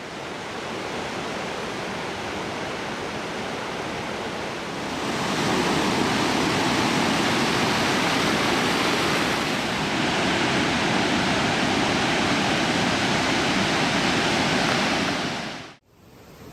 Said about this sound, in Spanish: El río Watson, al sur de la isla, que depende casi por completo del glaciar Russell, se ha desbordado debido a su deshielo anormal